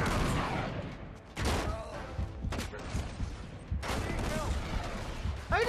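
Shotgun blasts in the video game Uncharted 3 boom out as several loud, separate broadband bursts spaced a second or so apart. Voices talk over and between the shots.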